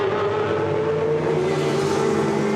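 GT race cars on track at Misano during a 2016 Blancpain GT Sports Club qualifying race, heard as a sustained loud engine roar with a steady droning pitch that barely changes.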